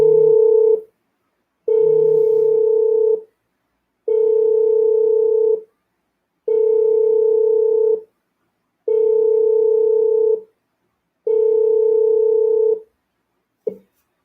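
A telephone line tone on a radio call-in line repeats as a loud, steady beep about six times, each lasting over a second with short gaps. No voices are heard.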